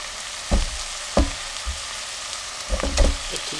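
Minced meat for spaghetti bolognese sautés in a pan with a steady sizzle, punctuated by several sharp scrapes and knocks of stirring.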